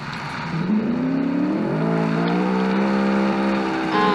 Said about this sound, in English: I'm going to get my drifting out of the way down here.